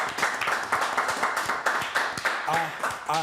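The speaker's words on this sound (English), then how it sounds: "I'm gonna clap, bro. I'm gonna just clap." Rapid, repeated hand clapping close by, sharp claps in a steady burst, with a voice briefly heard near the end.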